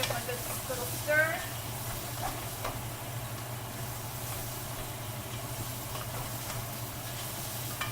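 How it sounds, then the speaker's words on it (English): Chopped onions and garlic are stirred in a pan, giving a faint, steady sizzle with a few soft scrapes near the start. A low hum runs beneath, and a voice may be faintly present. "just douse them right down there in the pan, give them a good little stir"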